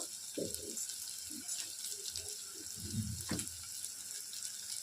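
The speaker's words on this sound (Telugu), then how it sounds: "ఇప్పుడు వాటర్ అనేది యాడ్ చేస్తున్నానండి" Water poured into a pan of upma as it cooks, a soft steady hiss and sizzle with a few low splashy thumps, fairly quiet, with no talking.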